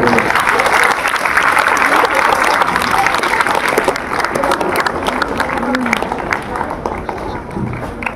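Loud, sustained applause from a school audience honoring a Kannada teacher at a Kannada Rajyotsava celebration at Ali Public School, Tumkur, continuing throughout and easing slightly toward the end.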